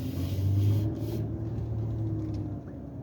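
A car drives along with a steady low engine rumble and road noise, heard from inside the vehicle, holding constant for the whole stretch.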